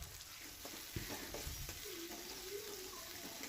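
Tomatoes frying in oil with salt for a country chicken gravy, giving a soft, steady sizzle with occasional stirring scrapes close by, no talk.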